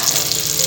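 Brinjal slices shallow-frying and browning in hot oil in a home kitchen, giving a steady, dense sizzle that stays close and even throughout with no voices.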